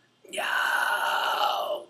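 A single quiet, breathy scream held for about a second and a half, thin and weak rather than forceful, with no other sound around it.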